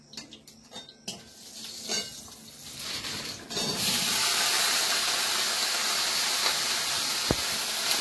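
Okra frying in oil in a wok, a steady sizzle and hiss that rises sharply partway through and then holds loud and continuous, after some earlier clinks of a utensil against the pan.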